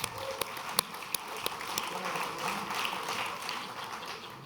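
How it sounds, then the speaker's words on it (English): An audience at a 25th anniversary celebration in an arts center claps, a few sharp early claps swelling into a steady, moderately loud round of applause. "I think that deserves some claps."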